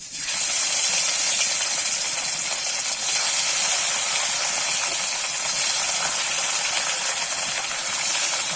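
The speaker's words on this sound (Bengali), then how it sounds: "তেলটা আমার কিন্তু ভালো করে গরম করে নিয়েছি এবারে কিন্তু মাছগুলো দিয়ে দেবো এক এক করে" Pieces of salted, turmeric-coated rohu fish frying in hot oil, a loud, steady, close sizzling hiss that holds throughout without speech.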